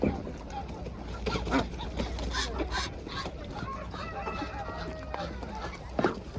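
Chickens cluck and squawk at an outdoor poultry market, a busy mix of hens and other fowl with occasional honk-like calls, while people talk nearby throughout.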